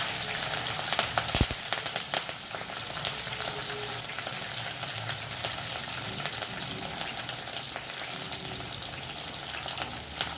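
Urad dal, cumin and green chillies frying in hot oil give off a steady, dense sizzle with crackling pops, continuous and close throughout, with no voices.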